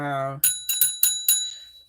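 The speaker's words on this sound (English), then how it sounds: "the bell ringing here" A bright bell rings in four quick, close strikes whose metallic tones hang briefly after each hit, following a held hum of voice.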